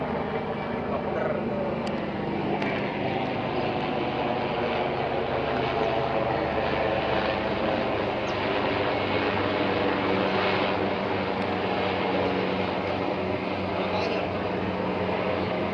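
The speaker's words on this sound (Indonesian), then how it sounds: "Helikopter lagi tuh." A steady, continuous engine drone of a helicopter flying overhead above rice fields fills the whole stretch, with faint background noise.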